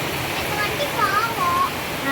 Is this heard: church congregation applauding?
no